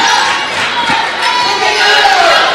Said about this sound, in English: We've got a lot of crowd noise interfering with the broadcast.